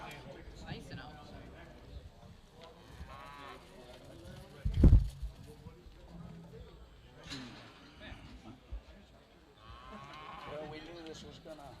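Hereford cattle lowing at a livestock sale, with a loud close moo rising briefly over steady conversation among people nearby, other fainter bellows and farm noise in the background.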